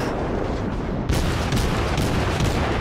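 Heavy naval gunfire in World of Warships as a warship fires armor-piercing shells, a dense, loud rumbling barrage with a sharp new blast about a second in, followed by continuing booms.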